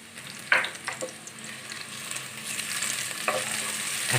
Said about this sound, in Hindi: अच्छे से फ्राई कर लेंगे।